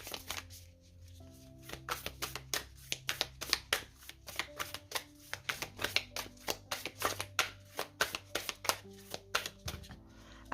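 Oracle cards are shuffled by hand in quick, crisp riffling bursts that repeat steadily, close and quiet, under a faint low steady tone.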